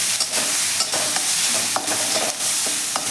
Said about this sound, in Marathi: हे व्यवस्थित मिक्स करूया.